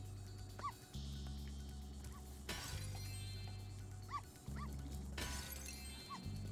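In the video game Spyro Reignited, a short crash of something being smashed through is heard twice. Game music plays underneath, with small yips from a creature, and the crashes come bright and close.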